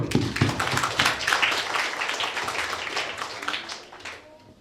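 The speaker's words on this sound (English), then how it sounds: "let us start the show with a big round of applause" Applause from an audience at a public speaking competition, with dense, loud clapping that starts strong, keeps going, then fades near the end. Nobody talks over it.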